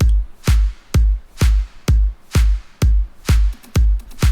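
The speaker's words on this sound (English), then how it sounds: "This is a pre-shifted clap." Sharp, punchy pre-shifted clap samples repeat at an even, steady tempo, about two per second, each with a short bright tail; loud and alone.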